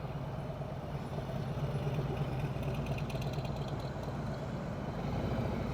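A motorcycle engine runs steadily at low, mid-range rpm while the rider practises slow rodeo cone manoeuvres, giving a continuous near rumble with no talk over it.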